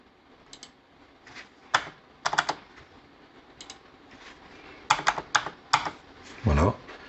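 Someone types a SIM card PIN code on a computer keyboard while setting up a Tenda N300 4G06 4G Wi-Fi router, with scattered groups of key clicks and short pauses, then a heavier press near the end.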